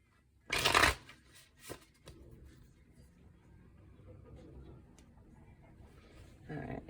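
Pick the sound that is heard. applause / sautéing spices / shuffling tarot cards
shuffling tarot cards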